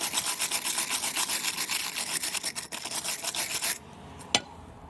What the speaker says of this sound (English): Now the wire brush is also made of metal.